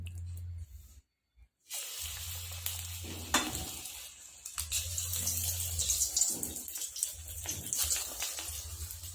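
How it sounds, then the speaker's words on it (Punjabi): Urad dal pakoras fry in hot mustard oil in a kadhai, a steady bubbling sizzle with crackles and a low hum, briefly cutting out near the start, then continuing with occasional spatters and stirring. "ਕੜਾਹੀ 'ਚ ਤੇਲ ਆਪਣਾ ਗਰਮ ਆ ਹੁਣ ਆਪਾਂ ਪਕੌੜੇ ਪਾਵਾਂਗੇ"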